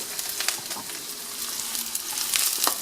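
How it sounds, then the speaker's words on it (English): Onions frying and sizzling in a pan for Indian-style cabbage, with a steady crackling hiss broken by a few sharper spatters and soft stirring scrapes, close and moderately loud with no talking. "I will stir them around a little bit and let them cook probably, I don't know, around 3 to 5 minutes"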